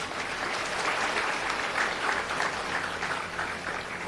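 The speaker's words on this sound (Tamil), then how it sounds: "அரங்கம் முழுவதும் சேர்ந்து கைத்தட்டல் கொடுங்க." Sustained applause from a large audience in a Tamil comedy hall, steady, dense clapping filling the whole stretch without a break.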